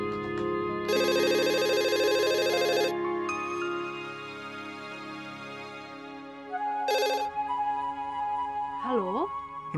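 A telephone rings in two loud bursts of bright electronic trilling with a gap between them, followed by other tones and warbling sounds as a scene from an Indonesian drama continues.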